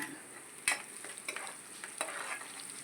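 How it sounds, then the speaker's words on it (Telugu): Whole coriander, cumin, cinnamon and cloves fry in a pan with a soft, steady sizzle, broken by a few sharp clinks and scrapes as the spices are stirred. "ధనియాలు జీలకర్ర దాల్చిన చెక్క లవంగాలు అది మసాలా పట్టేసుకొని ఇవి వేగుతూ ఉంటే"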